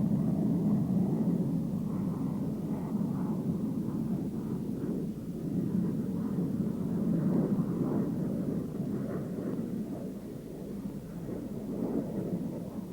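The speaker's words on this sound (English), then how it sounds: "With the air brake raised, the plane slows for its approach." Steady jet roar from a McDonnell Douglas F-15 Eagle with its air brake raised, slowing on a landing approach during its first flight, a continuous broad rumble with a slight swell midway.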